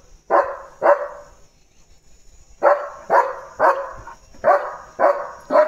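A German Shepherd barks loudly and close by, first two barks, then after a pause a run of six evenly spaced, full-throated woofs.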